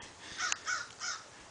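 A crow caws three times in quick succession, clear and fairly close, with no other sounds around it.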